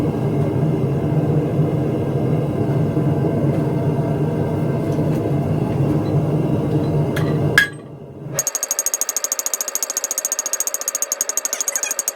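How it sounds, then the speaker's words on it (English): A steady roaring rumble gives way to a quick, even run of ringing metallic blows from a light flat-faced rounding hammer forging hot gas pipe, close and loud. "and then I'm going to move to a rounding hammer."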